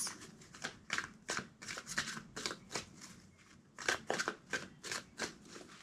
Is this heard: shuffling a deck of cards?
yes